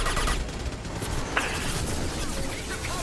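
Gunfire in a video game, a steady loud volley of shots blending into continuous combat noise, with one sharper crack standing out midway.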